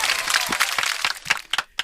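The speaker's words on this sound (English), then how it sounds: "Hey, I want everybody to give me a little clap right here." A nightlife podcast audience claps in scattered, uneven bursts, sharp individual claps standing out near the end, fairly close and moderately loud with no talking.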